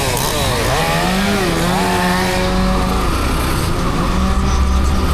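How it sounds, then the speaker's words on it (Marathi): A chainsaw cuts big trees in Pandharpur, running loud and close and holding a steady whine whose pitch dips and rises as the blade bites into the wood, with no speech. "मोठी झाडं कापतात."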